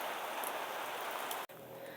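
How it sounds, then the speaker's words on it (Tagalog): Steady rain hissing down during a motorbike ride on Kennon Road toward Baguio, a continuous broadband wash with a brief dropout near the end before the downpour resumes, no voices. "Inabot kami ng ulan dito sa Kenon."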